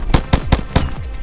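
Rifle fire in the blocky zombie survival game Zumbi Blocks 2: five loud, sharp shots in a quick, slightly uneven rhythm, each with a short booming tail, heard alone.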